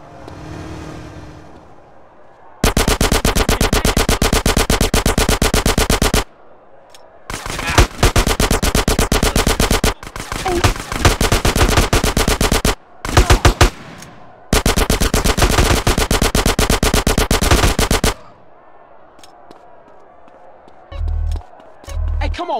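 Gunfire during a shootout in the video game Grand Theft Auto San Andreas: long, loud bursts of rapid automatic fire in several stretches separated by short pauses, with a car engine and some talk in the gaps.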